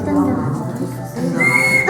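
A handmade folk whistle is blown in a test, giving a high, thin tone that rises clearly near the end, with talk around it.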